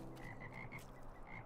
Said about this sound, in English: And a bunch of tiny frogs.